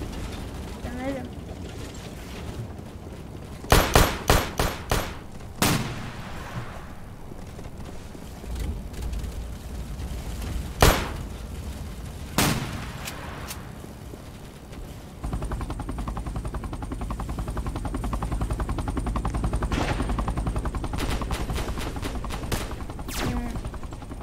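Shotgun blasts ring out in a Roblox Base Battles match, a cluster of loud rapid shots followed by several spaced single reports, then a steady mechanical drone, with a voice speaking in between.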